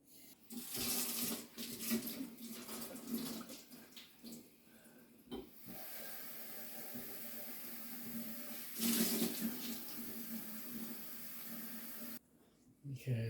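Tap water runs steadily into a plastic beer fermentation tank as a homebrew batch is topped up to the 5-gallon mark, with the flow pausing and resuming a few times.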